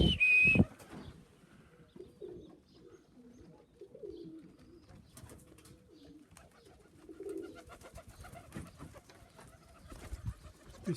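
Tippler pigeons cooing near their loft, soft low coos repeating at a moderate distance, with scattered faint rustling and wing sounds in quiet surroundings.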